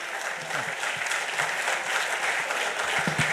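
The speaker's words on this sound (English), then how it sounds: "Can we have a thunderous applause" Steady applause from a convention audience of cost and management accountants, a dense crowd clapping throughout with a faint voice underneath.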